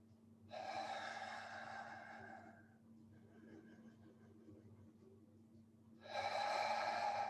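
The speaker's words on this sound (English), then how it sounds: "So you might find that you can have a little bit longer out breath, maybe through the lips, maybe through the mouth" Slow, audible breaths during a yoga session for runners, with a longer out-breath released through the lips or mouth, heard up close in two separate rushes with a quiet pause between.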